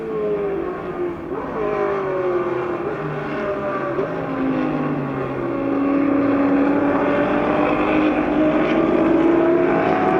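A Shelby race car chased closely by a Ferrari at Goodwood, engines roaring loud and continuous, pitch sweeping as the cars rise and fall through gears and pass by, with no talk over them.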